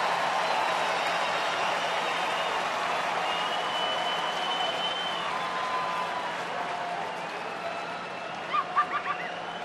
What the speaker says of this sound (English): Crowd's starting to get into it now